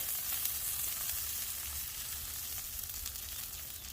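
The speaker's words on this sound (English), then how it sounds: "It's starting to sizzle now." Steady, dense sizzling of steak frying on a hot flat-top griddle, continuous and close, with no voices.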